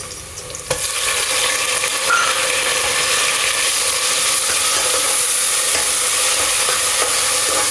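Tomato paste of four tomatoes hitting onions frying for a beef angara, a sudden loud hiss that settles into a strong, continuous sizzle, close and steady, with no one talking.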